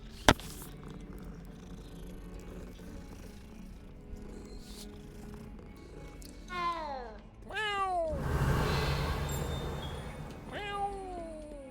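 A cat in a video game purrs as it is petted, a soft steady rumble under background game music, with several short meows breaking through near the end.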